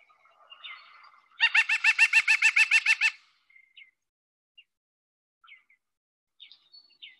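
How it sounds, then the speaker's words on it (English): A rapid series of about a dozen nasal, evenly spaced bird notes from a white-breasted nuthatch, loud and close, followed by faint scattered chirps. "This is the white-breasted nuthatch."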